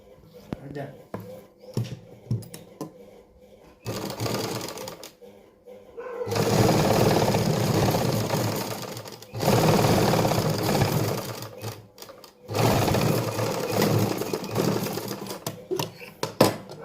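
Sewing machine stitching lining onto a salwar belt, running in three long bursts of steady whirring separated by brief pauses, with faint ambient sound between runs.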